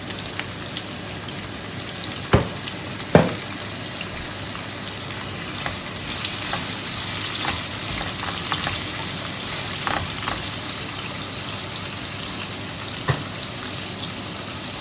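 Chopped vegetables for Arabian-style chicken shawarma cook in a pan, giving a steady low frying sizzle with a few sharp knocks of a utensil, with no talking.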